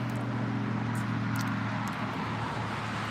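Steady, loud roadway traffic on the I-44 highway forms a dense continuous roar with low engine hum, heard from nearby during a morning walk, with no talking.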